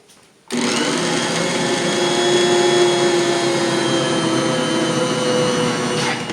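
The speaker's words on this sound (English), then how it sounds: "We're gonna mix with just the regular beaters for a minute until the dough starts to come together." An electric hand mixer with regular beaters switches on abruptly and runs at a loud, steady whine through sourdough bread dough. The motor hums continuously until it cuts near the end.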